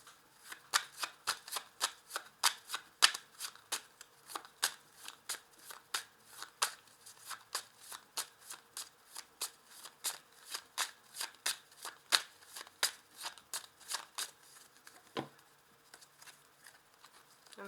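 A deck of 32 playing cards is shuffled by hand, a long run of quick crisp riffling snaps and flicks in an uneven rhythm, close and fairly quiet.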